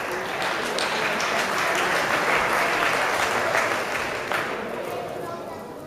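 A crowd at a boxing event applauds to welcome a guest, a dense, steady wash of clapping that fills the hall and slowly eases off toward the end.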